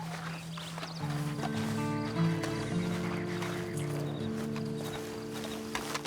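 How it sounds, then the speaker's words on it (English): In the video game Red Dead Redemption, a horse whinnies and its hooves clip-clop at a walking pace over a background of steady musical tones, fairly close and moderately loud. "And you better get on this horse."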